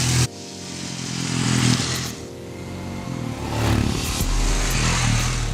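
A Royal Enfield Himalayan motorcycle engine roars steadily as it rides on the Chennai racetrack, rising and falling with throttle changes, loud and close with wind noise.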